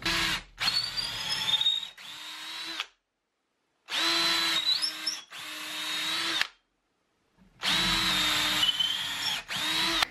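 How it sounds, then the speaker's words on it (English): A power drill with an extra-long bit whines in three long bursts separated by silent pauses, its pitch dipping and rising as it bores steadily through a 2x4. "I have an extra long drill bit that I'm going to be using to go from these holes down"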